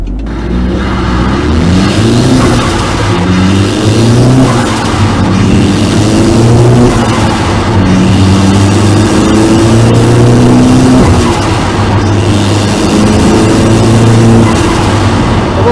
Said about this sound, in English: certainly in the cab you can hear the blow off noise